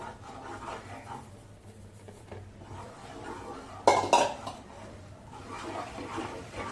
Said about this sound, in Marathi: एका भांड्याने हे तांदळाचं पीठ घालत राहायचं आणि एका हाताने बेलण्याने फिरवत राहायचं